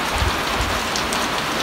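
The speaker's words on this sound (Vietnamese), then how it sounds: "Vừa bón phân xong thì mưa." Steady rain pours down outdoors, a dense even hiss of drops drumming on surfaces around a bonsai workspace, close and continuous with no voices.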